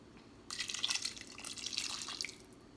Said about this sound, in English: I put a little bit more water in